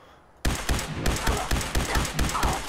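Rapid automatic gunfire in Fallout 4 bursts in after a quiet moment, about eight loud, evenly spaced shots in quick succession, close and punchy.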